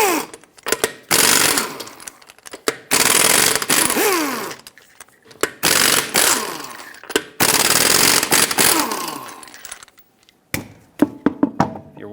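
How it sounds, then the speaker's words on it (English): A stuck front wheel on a 2013–2018 Hyundai Santa Fe being struck to free it, heard as loud, bursty mechanical rattling and impacts in uneven clusters with brief gaps between them, followed by a few sharp separate knocks near the end. "Wheel is stuck, give it a couple taps and remove the wheel."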